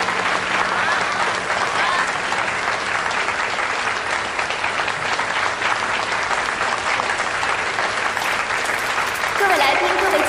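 Sustained audience applause at the launch of Infinite, a new home furnishings brand from the Luming Group, rolls on as a thick, unbroken wash of clapping for about ten seconds, swelling slightly near the end.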